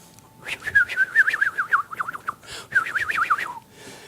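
A songbird warbles in two quick, looping bursts of bright, whistled notes, the second phrase starting after a brief pause, clear and fairly close with no talking.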